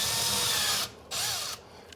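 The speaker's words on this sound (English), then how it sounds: "You're just drilling a nice pilot hole" A power drill bores a pilot hole into wood inside a cabinet under a sink while a pullout waste bin is fitted, two steady high whirring bursts close by with a short pause between them.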